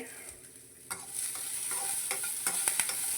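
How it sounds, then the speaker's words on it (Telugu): Green chillies and curry leaves fry in oil, making a faint, soft sizzle broken by small stirring clicks and pops that grow slightly busier partway through. "అలాగే ఒక 4 పచ్చిమిర్చి వేస్తున్నాను. కొంచెం వేయించేసుకోవాలన్నమాట."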